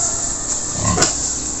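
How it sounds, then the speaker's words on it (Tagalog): A large pig at a Philippine piglet farm grunts and oinks in a short burst midway, close and moderately loud over steady farmyard background noise. "Ang laki ng baboy."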